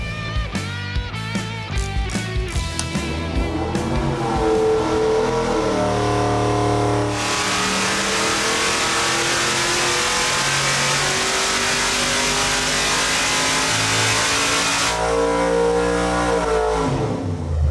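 A car engine on a dyno, fitted with 1 5/8-inch long-tube headers, revs hard in a series of rising, roaring pulls, loud and close, with a sustained high-rpm wail in the middle before dropping back.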